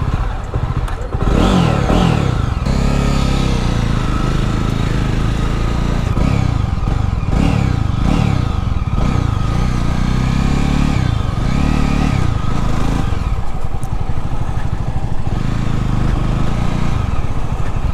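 A Jawa BS6 motorcycle is ridden and accelerated, its engine loud and close throughout, rising and falling in pitch through repeated revving and gear changes, with wind rush over the sound.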